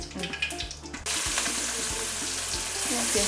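Mustard seeds, cumin and garlic hitting hot coconut oil for a tempering, bursting into a loud, dense hiss and crackle that holds steadily after a quieter start with background clatter.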